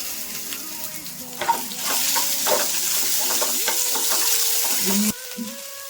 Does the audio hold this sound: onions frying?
yes